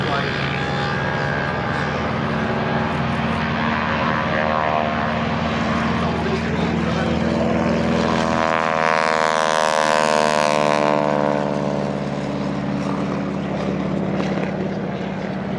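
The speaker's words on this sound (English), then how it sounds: "Second Harvard getting airborne" A Harvard propeller training aeroplane takes off at an airshow, its loud radial engine droning steadily, the pitch sweeping as it climbs away, with a commentator talking over it.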